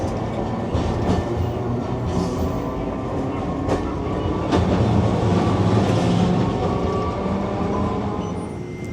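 A Nagasaki streetcar heading for Hotarujaya rumbles along steadily, with rolling wheel noise, faint clicks and a light squeal, loud and close from inside the car with no talking.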